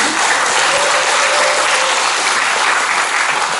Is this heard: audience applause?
yes